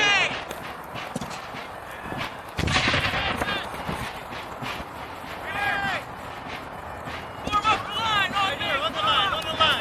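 Gunfire and explosive bursts from a battle reenactment of the 1758 fight at Fort Ligonier, with a grenade thrown over the fort wall; loud, irregular bangs and volleys over crowd noise and shouting, with whistles near the end.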